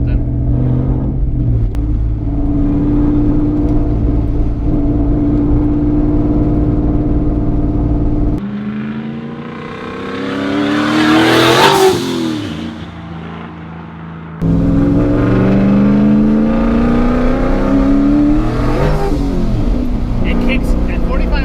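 Engine of an 80mm turbocharged Coyote Mustang running on a dyno, a loud sustained drone with a swelling rise and whoosh in the middle as the turbo boost hits, under talk.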